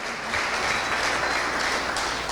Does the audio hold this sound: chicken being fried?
no